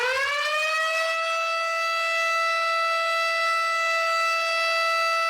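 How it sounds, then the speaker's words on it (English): Steady alarm siren from a Factory IO conveyor simulation, rising at the onset and then holding a loud, continuous wailing tone throughout. "if I hit start again, we're going to get those sirens again for 10 seconds"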